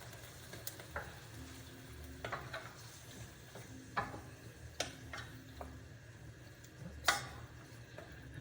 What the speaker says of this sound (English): we're just gonna stir to combine those items